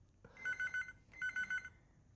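A telephone rings in a home setting, two bursts of rapid trilling bell tones separated by a short gap, clear and alone with no talk.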